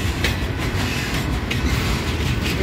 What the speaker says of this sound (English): Hurry up, train.